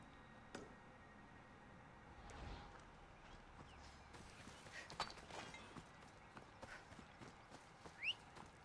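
Faint, unhurried clip-clop of horse hooves walking in the video game Assassin's Creed Odyssey, soft irregular thuds over a quiet ambient background, with no speech.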